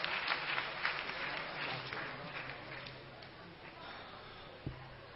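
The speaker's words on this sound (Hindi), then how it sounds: "तालियों के साथ।" Audience applause at a seminar hall event, a steady broadband patter of many hands clapping together, moderately distant and sustained, fading slightly toward the end with a single louder knock near the close.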